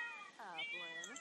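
In The Sims, a stray cat lets out one long, wavering meow that rises and then falls, close and clear with nothing else over it.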